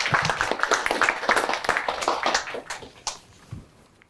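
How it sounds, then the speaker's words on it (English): A crowd claps in a dense burst of applause that gradually thins out and fades to a few scattered claps. "big round of applause for Emily."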